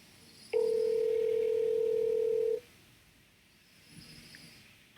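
A single steady telephone dial tone on a house phone sounds for about two seconds, loud and close, then cuts off, leaving quiet room noise with a faint thump near the end.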